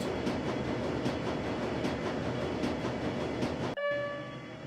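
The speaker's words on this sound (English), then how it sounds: "The train is speeding towards the Kurtz Bazaar station" A train speeds along in the Shadowrun: Dragonfall video game, a loud, steady rumble with rhythmic clatter that cuts off abruptly near the end, leaving a brief fading ringing tone.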